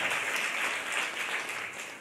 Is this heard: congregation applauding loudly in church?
yes